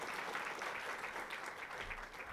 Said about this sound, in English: that's where you clap, right? That's where you really clap, all right.